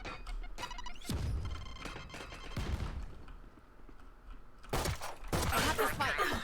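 Gunfire in a Valorant match: scattered sharp shots and impacts, a cluster early on, a quieter stretch in the middle, then a louder burst of rapid fire near the end, with faint voices underneath.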